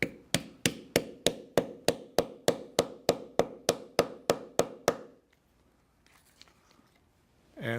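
A hammer strikes a leather snap set on an eyelet over an anvil in about fifteen sharp, evenly spaced blows, close and crisp. After the blows end, near silence follows, with faint handling noise at the end.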